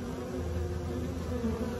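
A honeybee swarm buzzes around a Langstroth hive, a dense continuous drone of many wings close by that stays steady throughout without any talking.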